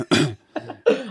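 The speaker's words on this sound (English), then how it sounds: "You cough into the mic?" Three sharp coughs go straight into a close microphone, each a loud burst with short silent gaps between them.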